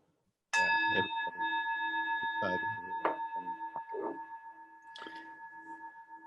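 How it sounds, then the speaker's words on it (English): A metal chime is struck once and rings with a long, sustained tone that slowly fades, while lighter taps and faint talk come through over the ringing. "Let me do another chime."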